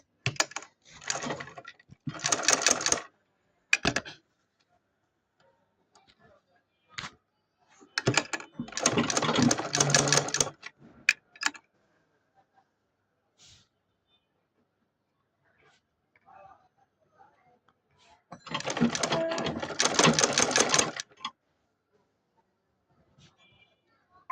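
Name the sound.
sewing machine stitching a salwar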